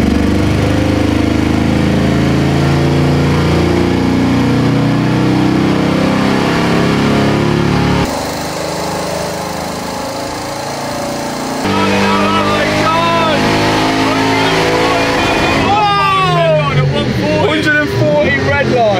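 An Audi RS6 engine roars loudly under load on a dyno during a stock run, rising in pitch through several revving surges, with a brief quieter stretch in between and some speech mixed in.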